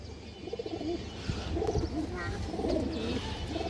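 Several pigeons, including a lively boot-beaked female, coo softly in overlapping, rolling phrases, with faint chirps and a low background hum.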